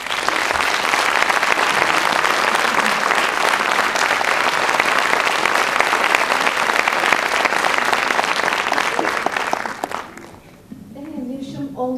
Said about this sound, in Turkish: orkestramıza teşekkür alkışı istiyorum